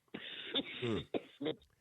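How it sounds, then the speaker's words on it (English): A few short, close coughs and throat-clearing bursts from one person, quiet and rough, in quick succession. "don't be coughing"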